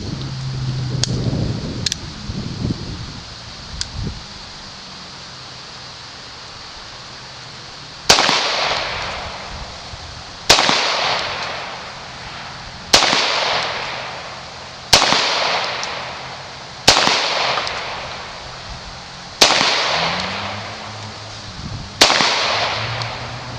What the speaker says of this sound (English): Those first 5 shots were made immediately